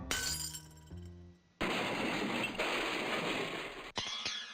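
Glass shattering in the Edna & Harvey: The Breakout video game, a loud crash followed by a sustained spray of tinkling shards and a second sharp break near the end, after a quieter musical passage.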